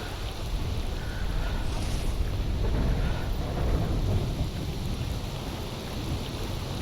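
Steady rain with low thunderous rumbling in a video game, a continuous dense wash of storm noise filling the scene with no talk over it.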